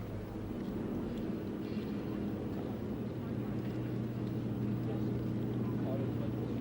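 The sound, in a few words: MiG-29UB trainer jet aircraft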